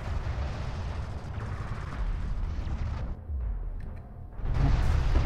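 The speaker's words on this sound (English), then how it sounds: "Hostile railguns have opened up." Sustained heavy weapons fire from hostile railguns in the real-time strategy game Desert of Kharak, a dense rumbling barrage of booming shots that dips briefly near the middle and then swells louder toward the end.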